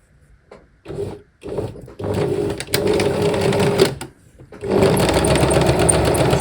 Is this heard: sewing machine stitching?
yes